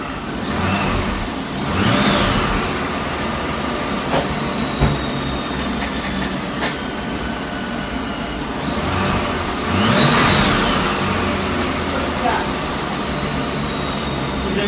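A 2004 Ford Mustang Mystichrome Cobra engine runs and revs nearby in a loud, steady drone with a couple of swells, while people talk over it.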